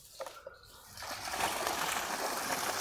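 Water gushing out under force from a running Kirloskar submersible motor pump, a steady broadband rush that starts abruptly about a second in after a few faint knocks, loud and continuous to the end.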